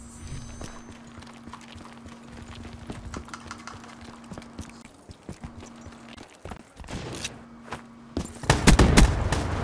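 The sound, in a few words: gunfire in a Scarface video game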